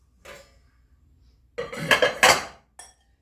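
Pyrex glass dish lids fitted onto vintage glass dishes, giving a faint clink first, then a louder cluster of clattering glass-on-glass knocks and a final short clink, with no talk.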